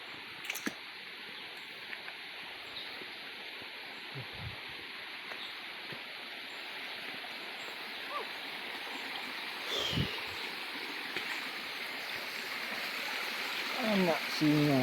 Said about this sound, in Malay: Anak sungai.